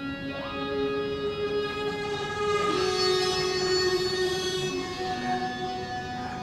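Synth bass layer for a sci-fi video game soundtrack, with sustained electronic tones forming a dense, steady drone and slowly gliding pitches, evenly loud throughout with no voices.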